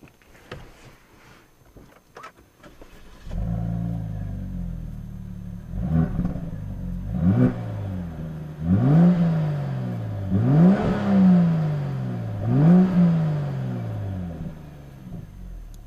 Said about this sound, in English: there's a full Polestar exhaust system. I'll show you what it sounds like.